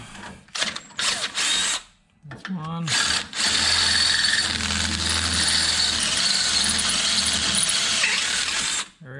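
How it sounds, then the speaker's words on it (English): A power drill bores out bolt holes in a Datsun D21 truck frame, giving short bursts and then a long sustained whirring grind near the mic, with a brief spoken remark early on. "just drill it out"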